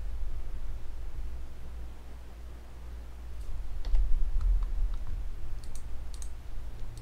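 Computer keyboard during a StartCOM Linux install: a few scattered key clicks and one firmer press, faint over a steady low fan hum.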